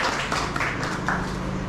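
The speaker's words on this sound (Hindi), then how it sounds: "मैं चाहूँगा कि आप सभी जोरदार तालियों से उनका" An audience applauds to welcome a new teacher at a college Hindi Diwas gathering, with steady, dense clapping from many hands throughout the brief moment.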